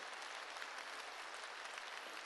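A church congregation claps together in a dense, steady burst of applause with no distinct individual claps, heard at a moderate distance without any talk.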